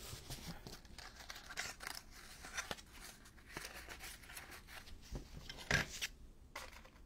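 Scissors cut paper for a junk journal, giving quiet, close snips and soft crinkles in an irregular rhythm with no one talking.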